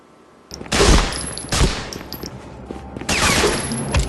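Gunfire in Medal of Honor: Frontline, several loud bursts of rapid automatic fire close by, each a dense rattle, separated by short gaps and trailing into a busy combat background.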